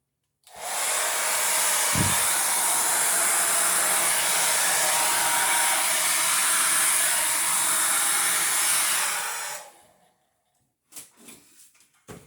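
A hair dryer blows acrylic paint across a ceramic tile, a loud, steady close-up roar lasting about nine seconds before cutting off, followed by a few brief handling knocks.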